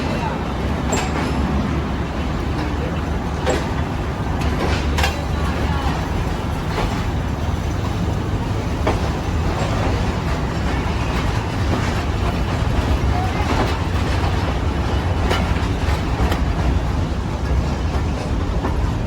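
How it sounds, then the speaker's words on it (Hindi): The Rawal Express passenger train pulls out of Lahore at night with a continuous loud rumble of wheels and carriages. Rhythmic rail clatter runs throughout, and a voice talks over it. "ये रावल एक्सप्रेस पूरे अपने वक्त की पाबंदी करते हुए टाइम पे डिपार्ट हो रही है"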